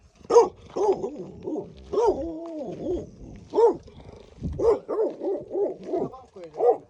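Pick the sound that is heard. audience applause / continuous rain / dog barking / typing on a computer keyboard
dog barking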